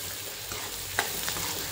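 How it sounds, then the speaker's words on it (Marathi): Chopped onion sizzles steadily in a hot pan as it browns to a reddish colour, with a few sharp scrapes of a spatula stirring it, close up and without talk. "कांदा एकदम लाल होईपर्यंत परतवत राहायचा आहे"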